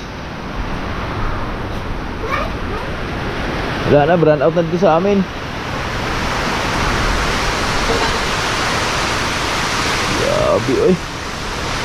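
Strong typhoon wind and heavy rain roar as a constant dense rush with gusting surges, while people talk briefly over the storm.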